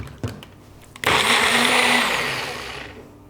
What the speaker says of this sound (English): So we're going to blend this well together.